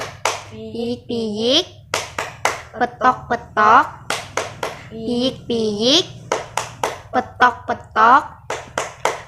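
In a classroom, children and a teacher play a chicken-themed rhythmic clapping game. Sharp, evenly spaced handclaps alternate with chanted syllables in a repeating pattern, close and lively.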